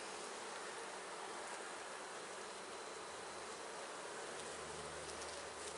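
Honeybees buzz in a dense, continuous drone during a hive inspection, steady and close throughout with no talking.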